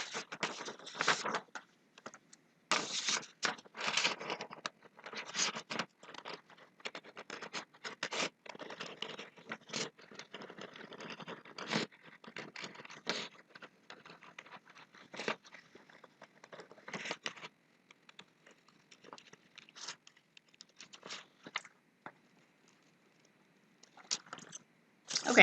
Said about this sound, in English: in this copy I want to cut along the inner circle, so not the dotted line but the solid line right there